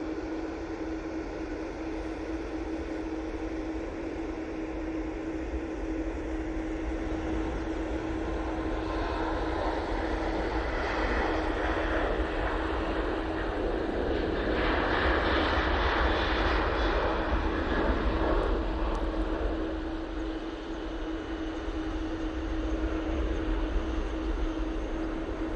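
A jet airliner at Manchester Airport rumbles steadily for a long stretch, a broad roar that swells toward the middle and then eases off, heard from a distance outdoors with a constant tonal whine underneath and no talking.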